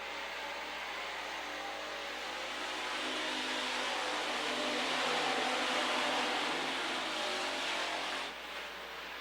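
Pure stock race cars roar around the track at Amsoil Speedway during a feature race, a steady, moderately distant wash of engine noise that swells slightly and then eases off.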